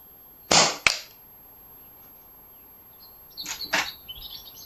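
Two sharp, close shots from an FX Wildcat Mk3 air rifle crack in quick succession, followed after a pause by faint outdoor birdsong.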